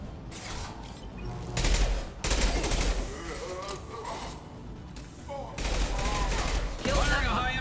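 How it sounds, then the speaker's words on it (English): Heavy gunfire and weapon blasts erupt in a Mass Effect battle, a high-impact shot ringing out among loud bursts and thuds, with voices speaking between the volleys. "Firing a high impact shot."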